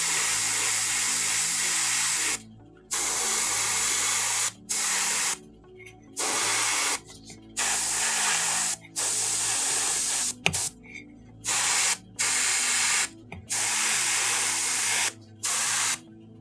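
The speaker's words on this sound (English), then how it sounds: "those are the last steps for the airbrushing on our red thatchwork armor" An airbrush sprays paint onto the red thatchwork armor of a Kurnothi bow hunter miniature in short, repeated hissing bursts separated by brief pauses, close and loud; no voices.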